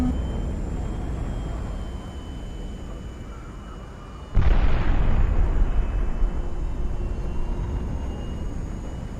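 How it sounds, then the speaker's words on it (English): An incoming missile and flares burst in the video game High Fleet. A steady engine-like drone plays first, then a sudden loud blast erupts and rumbles on, fading slowly over several seconds. "Incoming missile. Flares."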